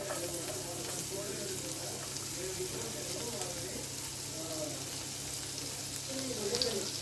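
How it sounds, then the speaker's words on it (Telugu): Onions fry in melted butter in a pan with a steady, dense sizzle that stays even throughout, alongside faint stirring. "బటర్ మొత్తం మెల్ట్ అయిన తర్వాత ఫస్ట్ ఆనియన్స్ వేసేసుకుందాం."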